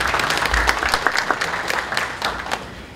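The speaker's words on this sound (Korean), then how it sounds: "박수 한번 부탁드릴게요" Audience applause at an executive introduction during a new Kia Sportage SUV launch event: dense, steady clapping from a sizable crowd, fairly close and continuous for a few seconds, with no talk over it.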